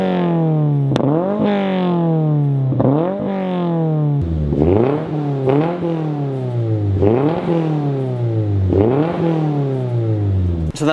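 Toyota GR86 with a Tomei ADR version 2 single exit catback exhaust on the passenger side, revved repeatedly in quick rising-and-falling sweeps, loud, raspy and close, with no talking.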